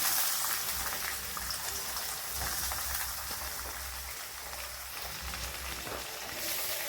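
Finely chopped onions drop into hot oil with mustard seeds and urad dal, giving a steady close sizzle and crackle of frying that holds for the whole stretch, with no talking.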